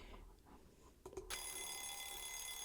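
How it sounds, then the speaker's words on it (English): Telephone ringing in a video game, a steady electronic tone that starts abruptly partway through after faint quiet sounds, moderately loud and alone without talk. "Your phone is ringing."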